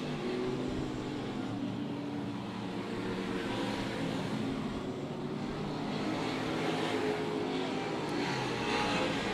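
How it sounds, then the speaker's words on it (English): A street stock race car roars around a racetrack in a continuous, fairly distant engine drone that swells slightly toward the end, without speech. "Brandon Spreen behind the wheel of this fast-moving street stock presented by Advanced Auto Parts."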